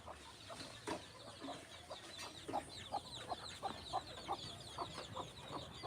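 Desi hens on a farm with around eleven chicks, faint rhythmic clucking repeated through the clip with occasional soft flutters and scratching.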